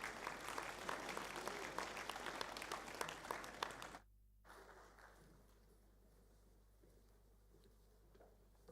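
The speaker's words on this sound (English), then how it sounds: "Can we get a round of applause, please, for the Year 10 silver medalists?" Applause from a school assembly crowd honouring Year 10 silver medalists, a dense steady patter of many hands for about four seconds that cuts off abruptly, leaving quiet room tone.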